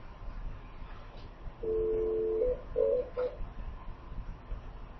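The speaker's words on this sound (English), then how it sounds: "So now why don't we make it a phone call?" Telephone keypad dialing tones during a test call to a call server: one long tone followed by a few short beeps, clear over a quiet hiss.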